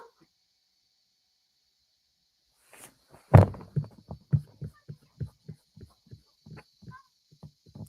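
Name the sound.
heartbeat sound effect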